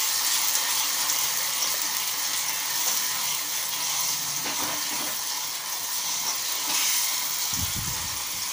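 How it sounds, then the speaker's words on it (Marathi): Chili, garlic and ginger sautéing in oil for Schezwan chutney, giving a steady, close sizzle and hiss throughout with a brief low clatter near the end. "तेल सुटेपर्यंत परतवून घेऊया।"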